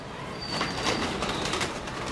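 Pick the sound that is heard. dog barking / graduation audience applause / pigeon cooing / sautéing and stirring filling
pigeon cooing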